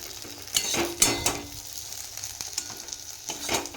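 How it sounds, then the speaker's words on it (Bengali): Okra frying in a pan on a home stove, soft steady sizzle with several louder stirring scrapes and clinks of a utensil against the pan, close and alone without voices. "এবার আমি ঢ্যাঁড়স ভাজাটাকে নামিয়ে নিচ্ছি"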